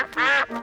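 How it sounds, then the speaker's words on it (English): A cartoon duck gives a loud, nasal, drawn-out quack followed by a shorter second call, close and clear with no talking over it. "Hello, ducks."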